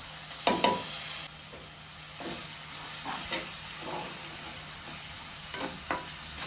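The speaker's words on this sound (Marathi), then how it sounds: "आपण हे मसाले घातलेले होते ते मसाले आपण तेलामध्ये टाकणार आहोत" Masala paste blended with yogurt frying in oil for hotel-style paneer masala, a steady close sizzle with a sharp burst as it hits the pan and several stirring scrapes throughout, no talking.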